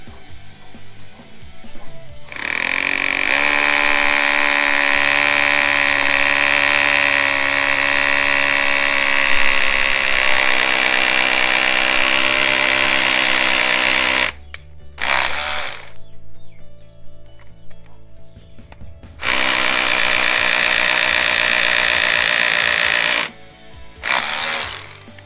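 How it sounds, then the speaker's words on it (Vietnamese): DCA ADZC13 rotary hammer boring a hole in concrete: a loud, sustained hammering drone for about twelve seconds, a brief pause, then two more shorter bursts of drilling, with no talk. "Để khoan thêm một lỗ nữa."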